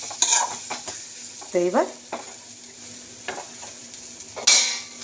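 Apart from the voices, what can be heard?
spice paste with tomato being stirred and fried in pan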